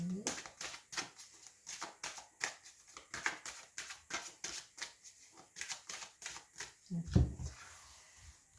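Tarot cards shuffled and drawn by hand, a steady series of close, crisp riffling flicks and slaps running throughout, with quiet talking faintly underneath.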